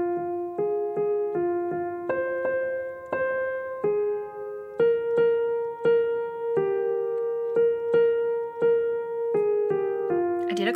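A beginner-level piano rendition of a song, a slow melody of sustained single notes and simple chords played clearly and alone.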